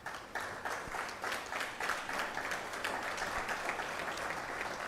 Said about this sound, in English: Can I request the MENCOM to stand up and you give them a round of applause?